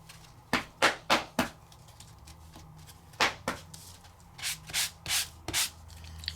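Short scratchy sanding strokes on a paper craft piece, close and dry, in quick bursts: four rapid rubs, a pause, then two more and a steady run of five.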